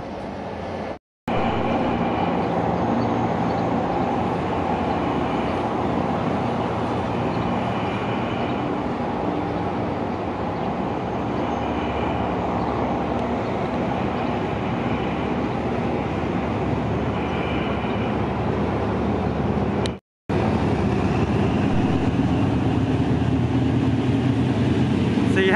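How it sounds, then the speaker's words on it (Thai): Train number 86 departs near Bang Sue in Bangkok, a steady loud rolling rumble of rail cars passing close by for nearly half a minute, with brief cuts in the sound. "ขบวน86ออกไปแล้วครับ"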